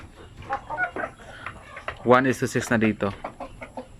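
Chickens on a poultry farm cluck and cackle close by, with one loud burst of clucking in the middle, while a person speaks briefly over them.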